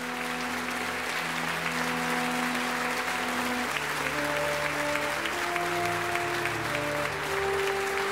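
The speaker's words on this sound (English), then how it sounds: "Thunderous applause and another successful night here at the Playhouse." Loud, sustained applause from a large theatre audience at a playhouse, steady clapping filling the whole stretch while a soft musical tone plays underneath.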